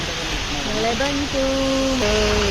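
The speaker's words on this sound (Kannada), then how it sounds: "ಫುಲ್ಲು ಮಳೆ ಬಲಬಲ ಅಂತ ಬರ್ತಾ ಇದೆ" A heavy downpour roars steadily and loudly throughout, while a person speaks over the constant wash of rain.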